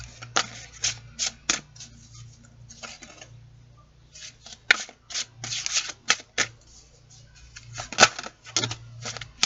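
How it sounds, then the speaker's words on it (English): Cards from a Winged Enchantment Oracle deck being handled and pulled, a string of quick papery flicks and riffles in short bursts with quiet gaps between, close and light. "I'm going to pull a Winged Enchantment Oracle deck card for you guys"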